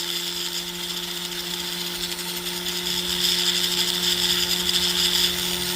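A jeweler's flex shaft runs steadily with a high whining motor tone and a low hum, growing slightly louder halfway through, used while checking ring stones for looseness.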